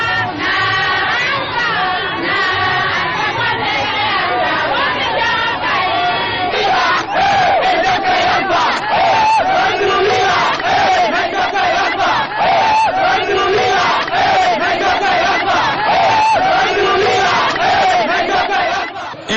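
A large festive crowd in Télimélé, Guinea, welcomes the president of the Republic with loud, sustained cheering, shouting and ululating voices blending into a continuous roar.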